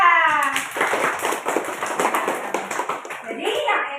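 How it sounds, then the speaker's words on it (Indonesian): Applause from a classroom of children during a lesson, a dense rattle of many small hands clapping steadily for about four seconds, with children's voices mixed in. "Tepuk tangan untuk Laila."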